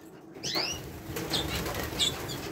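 Two greenfinches flap their wings in quick, loud bursts close by in an outdoor aviary, with a few short chirps between the flurries.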